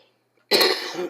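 One loud, close cough bursts out of near silence, rough and breathy, trailing off after about half a second.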